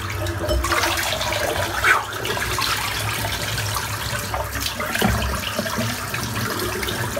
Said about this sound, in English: Let's empty the sink out.